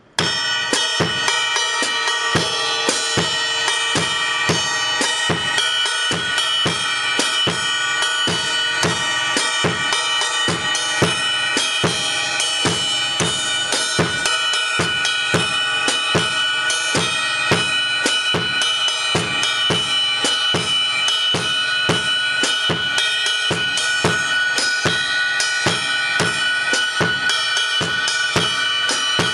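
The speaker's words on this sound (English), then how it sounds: "We'll add the bass drum in." Mambo drum groove with a bass drum added, steady repeated hits in a dense, driving rhythm carrying through the whole passage, close and loud with no talking.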